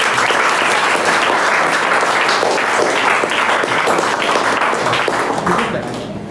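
Loud, sustained clapping from a crowd at an AbhyaasIIT, Motihari award ceremony, a dense uninterrupted patter of many hands that softens slightly at the very end.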